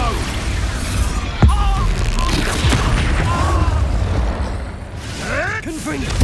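An Expulso explosion spell goes off in the Hogwarts Legacy video game, a sharp blast followed by rumbling debris, with game character voices and shouts heard over and around it.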